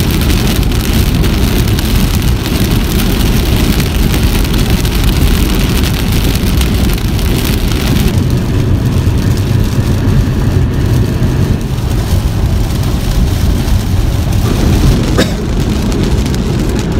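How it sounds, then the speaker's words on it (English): Steady, heavy rain roars without pause around a Tesla, a dense wash of noise with wind gusting through it. "Lots of rain outside, guys. It's pouring like crazy. The wind's blowing."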